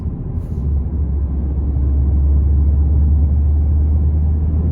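A manual car cruising on a road during a driving lesson in Holland, with a steady low engine hum and road rumble throughout, continuous and close.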